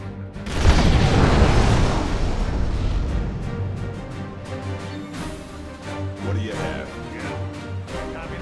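Nuclear missile launch and huge blast in the real-time strategy game Generals: Shockwave, China Nuke General against USA Armor: a loud, rolling boom that swells early and rumbles on with scattered crackling bursts under game effects.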